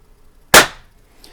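Single sharp crack of a Diana Chaser .22 caliber CO2 pistol shot at a target, loud and close, with a brief decaying tail and no talking.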